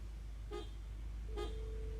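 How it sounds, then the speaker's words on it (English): Two short, faint car horn toots about a second apart over a low steady engine rumble, heard from a distance. "Oh, Brett honked the horn."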